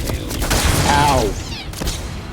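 Sustained rapid gunfire aimed at the player in a video game forms a dense, loud burst lasting about two seconds, with a brief voice-like sound mixed in.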